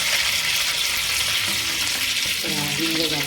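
Fenugreek seeds hit hot oil in a pan already holding curry leaves for a tomato and okra kadhi. The result is a loud, steady, hissing sizzle heard up close, with a faint crackle toward the end.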